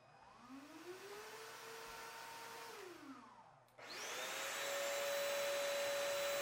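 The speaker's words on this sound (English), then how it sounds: "the Crosswave Cordless Max is a lot quieter than the corded version" A Bissell Crosswave Cordless Max 2554A wet-dry vacuum whines with a motor tone that rises, holds, then drops as it powers down, then starts again with a louder, brighter steady hum and rising pitch, with no voices.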